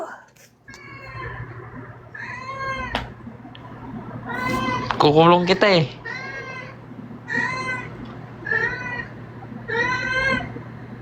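Repeated cat meows ring out close by, one longer wavering yowl in the middle, with a person's voice speaking briefly among them.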